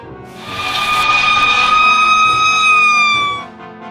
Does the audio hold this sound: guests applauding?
no